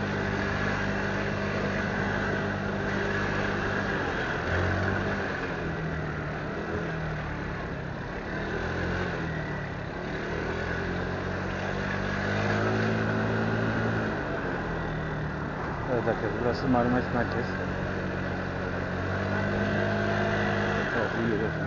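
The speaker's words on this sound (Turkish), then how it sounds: "Yoğun bir trafik akışı var." Dense car and motorcycle traffic fills the centre of Marmaris with a steady, close engine rumble and passing vehicles, with someone talking over it throughout.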